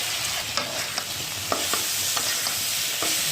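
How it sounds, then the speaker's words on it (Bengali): Potato pieces and jackfruit seeds are sautéed in a pan for a dried-fish curry, a steady sizzle broken by quick rhythmic stirring scrapes and clicks about every half second. "শুটকি রান্না করার জন্য আমরা ভালোভাবে আলু দিয়ে কাঁঠালের বীজগুলো ভালোভাবে কষিয়ে নেব"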